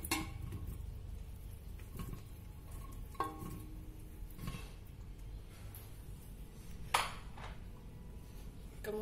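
Meat going into a pressure cooker pot while Soto Madura is cooked gives quiet metallic clinks and knocks, a few sharp pings standing out over low kitchen hiss, with no talking.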